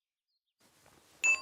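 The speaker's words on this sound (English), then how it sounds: "That bell means my cookies are ready." A small kitchen bell dings once, bright and clear, to signal that cookies are done baking, ringing out after a moment of faint rustling and quickly decaying.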